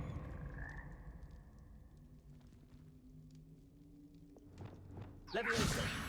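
Frog croaking in the Hogwarts Legacy video game, with low croaks and soft game ambience, ending in a louder burst of movement sounds.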